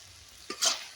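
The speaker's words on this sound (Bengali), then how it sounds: "আবার একটু ভালো করে নেড়ে নিচ্ছি" Banana flower curry with shrimp being stirred in a pan: a single soft scrape followed by a brief sizzling swish, heard close and fairly quiet.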